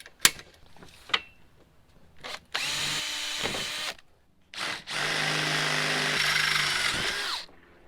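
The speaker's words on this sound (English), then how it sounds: "So we drilled through the rails of the panels and got a bolt through there." A power drill bores through the metal mounting rails of solar panels on a box van camper build, two long whining runs separated by short taps and clicks, close and alone.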